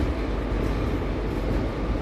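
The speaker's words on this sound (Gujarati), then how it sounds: "અહીંયા આપણે જોઈ શકીએ છીએ માળિયા મિયાણા જંકશન પરથી આપણી ટ્રેનનો ડિપાર્ચર થઈ રહ્યો છે." A Bhuj to Rajkot daily special train (09445/46) pulls out of Maliya Miyana junction, its steady rolling rumble close and continuous with no voices over it.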